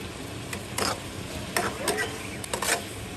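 Frozen tomatoes being stir-fried in a pan, with scattered bursts of stirring and scraping over a low, steady sizzle, close and fairly quiet.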